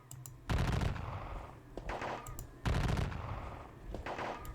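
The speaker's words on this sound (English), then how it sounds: "Oof, eating musket fire." Massed musket volleys in a Gettysburg war game, long crackling bursts of gunfire that swell in, fade and return, loud and dense like rolling fusillades, with no speech.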